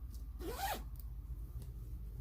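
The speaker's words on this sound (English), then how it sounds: "some of these things are in project bags, so you're gonna hear a zipper here or there" A zipper on a fabric project bag for cross-stitch supplies is pulled once in a short, close rasping zip, followed by quiet handling.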